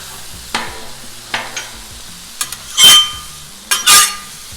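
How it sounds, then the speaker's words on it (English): Frozen ground beef sizzles on a Blackstone griddle. A steady fry runs through the clip, broken by a few scraping and stirring knocks, with two louder hissing bursts near the end. No one speaks. "ground beef is super easy to cook on this thing"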